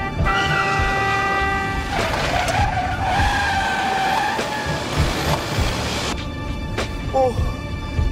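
A car with failed brakes skids, its tyres screeching in long, loud squeals that rise and fall before a final sharp screech, with voices shouting in between.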